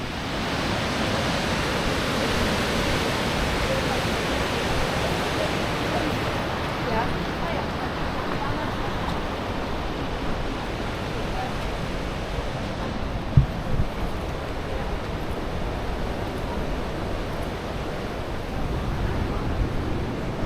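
Water rushes steadily down a weir in Munich's English Garden, a dense broadband roar that stays close and constant throughout, with a voice talking over it at times.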